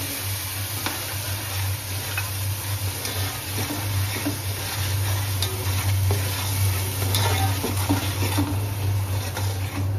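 Onions frying in oil in a pan, a steady broadband sizzle with stirring scrapes and clinks throughout, close and continuous with a low steady hum underneath.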